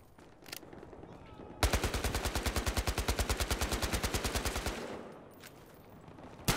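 Rapid automatic gunfire in the Battlefield Hardline video game strikes a car's trunk, a loud, even burst of about thirty evenly spaced shots lasting around three seconds, with a few single cracks before and after.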